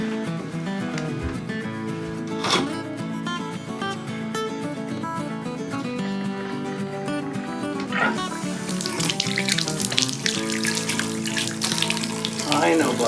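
Tap water runs steadily into a bathtub for bathing a pet monkey possum, a continuous rushing that swells louder toward the end with a few knocks along the way.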